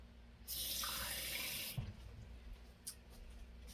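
Water pours from a tap into a pan of simmering tomato sauce for ratatouille, a steady bright rush lasting over a second and then cutting off, followed by faint drips and a low bubbling hum.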